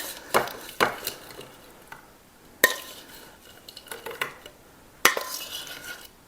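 Utensils clatter against dishes while high-protein snacks are mixed and plated, with several sharp clinks and scrapes spaced irregularly and quieter stirring rustles between them, close by with no talking.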